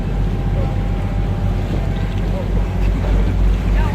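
Canal tour boat cruising the water in Bruges, a steady low engine rumble with wind buffeting the microphone throughout, constant and close.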